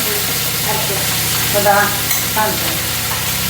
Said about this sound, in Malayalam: നാളികേരവും ഇഞ്ചി, പച്ചമുളക്, വെളുത്തുള്ളി, ചുവന്നുള്ളി, കറിവേപ്പില പക്കൂരി എന്നിട്ട് വറുത്തു